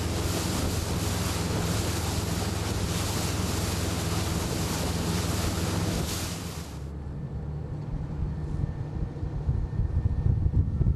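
Strong wind and ocean surf roar loudly out at sea during a mock rescue of a disabled fishing vessel, with wind buffeting the microphone throughout and easing slightly partway through.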